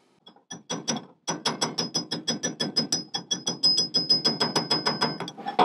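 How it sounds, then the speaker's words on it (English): A brass punch is struck around a brush hog gearbox seal to seat it: a rapid, steady run of about thirty sharp metallic taps, close and fairly loud, after a brief pause near the start. "I'm gonna get a brass punch and just kind of hit it all the way around like I did there with the wood block"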